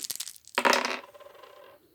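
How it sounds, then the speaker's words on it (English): Five dice are rolled in a tabletop fantasy game: a short scatter of clicks, then a sharp rattling clatter that rings briefly and fades out, close and alone with no talk. "she needs to roll 5 dice to hit"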